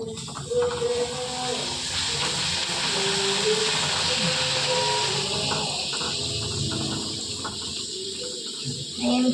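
A puri frying in hot oil in a pan: a continuous, strong hiss and bubbling sizzle that holds steady for the whole stretch, with people talking faintly underneath.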